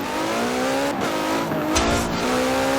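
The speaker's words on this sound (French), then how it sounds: "Alors le freinage, on va tester à fond." Ferrari 575M Maranello in Forza Horizon 4 braking hard, its engine tone dropping steadily under a sustained tire squeal, then revving back up, loud and close with no talking.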